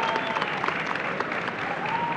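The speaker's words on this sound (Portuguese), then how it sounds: "Estou adorando essa salva de palmas." An audience at a banking and technology conference event applauds, a steady dense patter of many hands clapping together at a moderate distance, sustained without pause.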